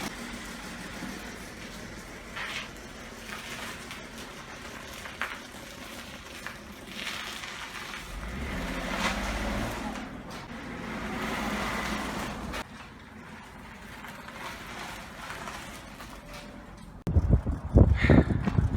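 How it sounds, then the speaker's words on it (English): A 2008 BMW 535i with a newly replaced water pump and thermostat drives on a test run, its engine a low steady hum with faint road rumble that swells briefly midway and ends with a louder burst of noise. "Let me bring it down, and we'll test drive it."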